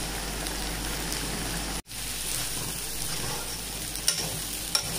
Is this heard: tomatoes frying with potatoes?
yes